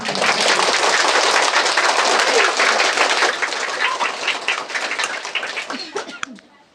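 Applause from an audience at a school farewell gathering as a small gift is presented, loud dense clapping that holds steady and then thins out and fades toward the end.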